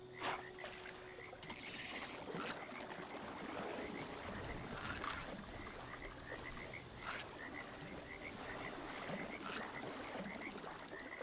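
Frogs croak continuously in a Fallout 76 game environment, many overlapping calls in a steady chorus over watery ambience, with no talk.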